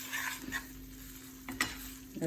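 Boiled drumstick leaves sizzle steadily in a pan while a utensil scrapes and stirs now and then, close up, with no voices.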